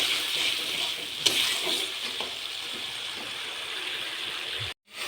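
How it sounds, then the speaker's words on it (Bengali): Spice masala frying in a pan after a little water is added, a steady bright hiss and sizzle with a few soft stirring scrapes, close and continuous before a sudden brief cutoff. "একটু জল দিয়ে দিলাম মশলা কষানোর জন্য।"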